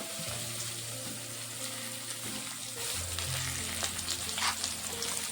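Eggplant pieces fry in hot oil in a kadai, a continuous close crackling sizzle that holds steady throughout.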